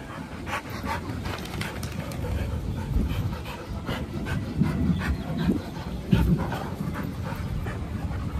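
Several dogs, three females and a male, pant and move about together, with rapid breathy panting and scuffling that hold steady at moderate loudness and a few brief yelps or whimpers, with no talk.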